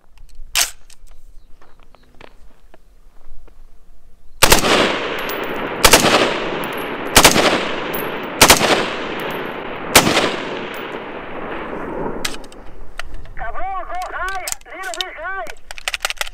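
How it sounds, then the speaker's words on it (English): A rifle built for full-auto fire, shooting at a target about a mile away, fires five loud shots at roughly even intervals, each with a long echoing tail. A faint warbling electronic tone follows near the end. "Okay, shots coming. Firing right now."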